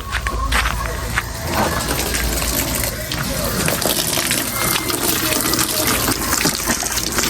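Raw chicken is rinsed under a running tap for a Visayan chicken soup, a steady close splash of water continuing throughout while people talk over it.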